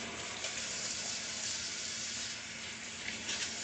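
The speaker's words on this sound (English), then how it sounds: "I'm going to wash my hands." Kitchen tap running into a sink while hands are washed with soap, a steady, fairly quiet hiss of flowing water with faint splashes and no talking.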